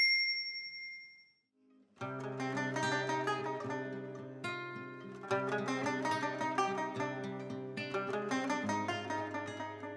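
A clear notification bell ding opens with a bright, sustained tone that fades after about a second, followed by upbeat music.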